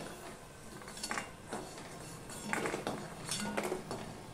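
Crispy fried bitter gourd pakoras being handled and moved about, a faint, close series of light crunchy clinks and rustles against a plate or pan, with no talk.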